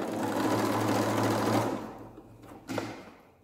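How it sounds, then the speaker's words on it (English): Sewing machine running a line of top stitching along a homemade sound absorbing blanket, a steady close whir for over a second and a half, then stopping, followed by a short mechanical clack. "I'll just go over that top stitching and come down to the end."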